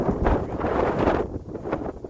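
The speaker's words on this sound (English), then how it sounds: "It's a little windy out, so you may see the camera shaking." Gusts of wind buffet the microphone with low, rumbling bursts that rise and fall over a couple of seconds.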